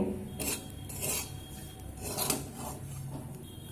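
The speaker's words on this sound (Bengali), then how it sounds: "এবার একটি পাত্রে আমি তুলে নেব" Roasted Gobindobhog rice flour being scraped out of a pan into a container, with quiet rhythmic scraping and a few faint metal clinks.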